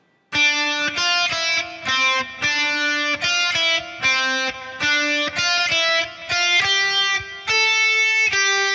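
A bright, clean guitar melody, quick plucked single notes in a steady rhythm, played close and clearly without any speech.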